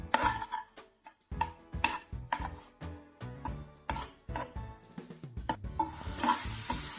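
Grated beetroot is sautéed in a pan for beetroot ladoo, with repeated scraping strokes of a spoon against the metal pan in an irregular rhythm over a soft sizzle, close up and without talk.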